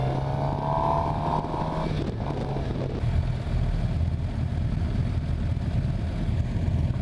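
A 2015 Suzuki GSX-R750 sportbike is held in second gear through a corner, its engine droning steadily at mid revs under strong wind rush, with the pitch sliding lower partway through.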